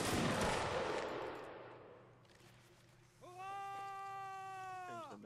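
Musket line volley in a Napoleonic Wars battle, a single loud crackling burst of massed musket fire at the start that fades into a long rumbling decay, followed by a sustained horn-like tone.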